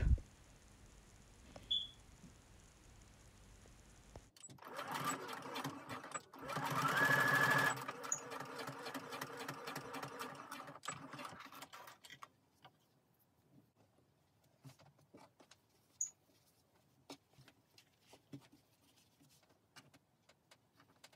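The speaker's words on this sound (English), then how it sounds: "we're gonna connect our elastic by 1/2 inch and sew it together there" Sewing machine stitching elastic ends together into a loop for a face mask made from a men's shirt: a steady burst of whirring stitches in the middle, then quiet handling clicks and light taps.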